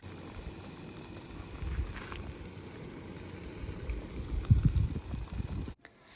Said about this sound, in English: So we set up our jet boil to get that water boiling for our coffee.